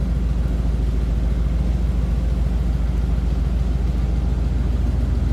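Engine of a 1957 Cadillac Eldorado Brougham idling, a steady low rumble that holds even and continuous throughout with no talk.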